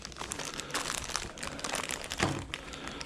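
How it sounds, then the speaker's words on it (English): A plastic packet being unwrapped indoors gives off a continuous close crinkling and crackling, with rustling that swells and peaks near the end. "Excuse me while I just unwrap this packet."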